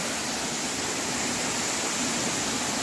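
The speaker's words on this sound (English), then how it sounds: "and here goes the waterfall." Waterfall at Jibhi in Himachal Pradesh, a loud, continuous roar of falling water, broad and unchanging throughout the short stretch, with no speech.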